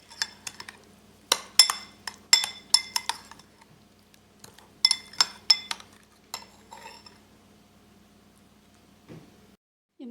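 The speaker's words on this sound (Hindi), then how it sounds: "और अब इसको हम मिक्स करके सॉस बना लेंगे" A spoon clinks and scrapes in a bowl while a salted sauce for a BBQ chicken rice platter is mixed. The sharp taps come in quick clusters, then slow and fade.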